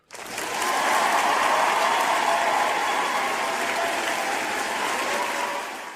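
Loud, sustained applause from a live show audience, steady clapping that holds for several seconds before easing slightly at the end, with no talk over it.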